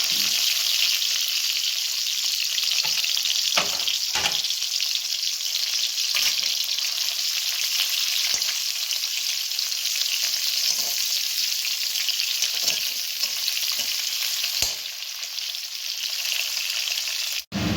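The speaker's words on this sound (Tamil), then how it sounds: "இந்த மாதிரி ஆனதுக்கப்புறம் நம்ம ஆனியனை போட்டுக்கலாங்க." Chopped large onions fry in a hot pan with a loud, continuous sizzle, broken by a few scrapes and clinks as they are stirred. No one speaks.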